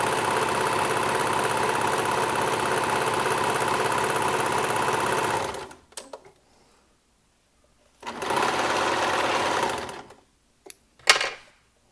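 A sewing machine runs steadily and loudly as it feeds fabric through to sew a rolled hem, then stops, and a second run starts and stops again. A few clicks follow.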